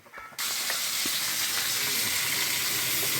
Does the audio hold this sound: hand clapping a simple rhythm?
no